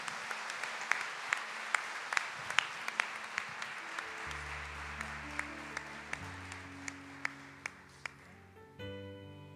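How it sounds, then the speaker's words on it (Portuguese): A church congregation claps in scattered, sparse bursts, fairly quiet and spread out, while sustained organ-like keyboard chords enter partway through and carry on beneath the last claps. "Vamos aplaudir a palavra do Senhor."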